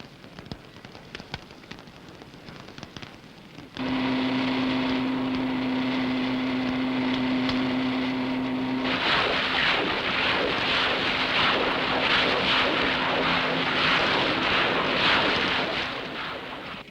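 A steady, loud rushing hiss of water sprayed at up to 100 pounds pressure by a Series 2 Land Rover fire pump, preceded by quieter background noise, with the Land Rover's engine hum underneath that fades as the spray broadens.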